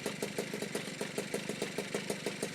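Yamaha QT50 moped's small two-stroke engine running after a kick start without choke, a rapid, even popping idle with a regular pulsing beat, close and steady with no voices.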